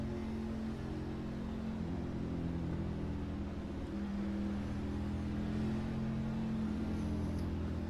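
Xfinity series race cars at Talladega, a steady loud engine drone with sustained harmonic tones and slight pitch shifts, continuous throughout as the field goes green.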